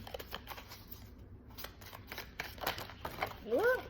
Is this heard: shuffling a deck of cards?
yes